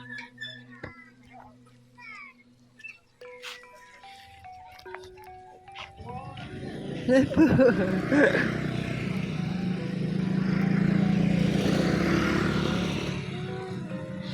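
A motorcycle passes by on a village road in the late afternoon, its engine swelling from faint to a loud, broad roar before easing off slightly. Whistle-like tones and scattered sounds come before it.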